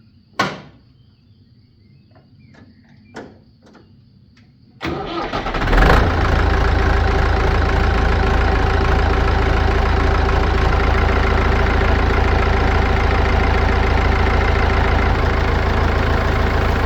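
A tractor engine under repair, with its hydraulic piston just reworked, is cranked after a few faint clicks and catches within a second, then settles into a loud, steady, close idle that runs on alone.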